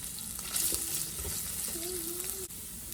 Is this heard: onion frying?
yes